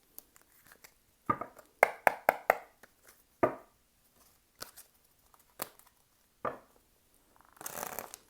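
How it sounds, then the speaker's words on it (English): Tarot cards shuffled by hand in short bursts of riffling and tapping, several quick clusters separated by pauses, close and fairly quiet with no talking. "I cannot shuffle these cards."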